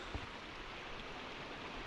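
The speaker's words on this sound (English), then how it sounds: "There's plenty of water in the beck" Water rushing down a full mountain beck in the fells, a steady, soft broadband gush heard alone.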